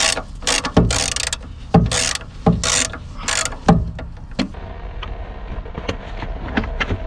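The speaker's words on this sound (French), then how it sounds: "Donc on va dévisser la vis." A 10 mm socket bit unscrews a screw while removing the washer pump on a BMW 1 Series F20, giving bursts of ratcheting clicks and clattering mechanical taps, loud and close, thinning into lighter scattered clicks toward the end.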